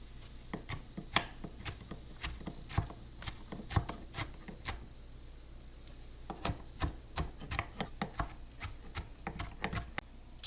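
A knife chops a tomato on a cutting board in a home kitchen, striking in quick irregular bursts of sharp, close taps with short pauses between runs, over a quiet background.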